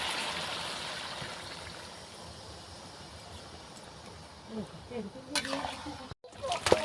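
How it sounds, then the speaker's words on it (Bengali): Water is poured into a pot of chicken cooked with giant taro. A steady, soft rushing stream fills most of the clip, then gives way to a few clanks and knocks of the pot near the end. "দিয়ে এবারে জল ঢেলে দেবো"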